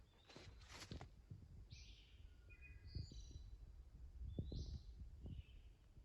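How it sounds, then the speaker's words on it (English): Faint, distant bird whistles recur several times over low rumbling thumps and quiet outdoor forest ambience. "It's a nice bird whistle sound."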